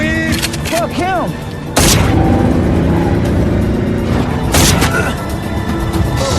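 Gunfire in a crime-film gunfight between a mafia gunman and a corrupt police officer: two loud, sharp shots about three seconds apart, each breaking over a busy background of tonal sounds and rumble.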